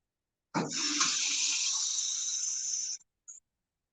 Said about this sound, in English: let me put some water in here to show you what that looks like.